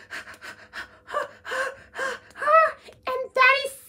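A person imitates scared, panicked breathing with a run of quick, shaky gasping inhales and moaning exhales, rising in intensity over a few seconds, voiced close and alone.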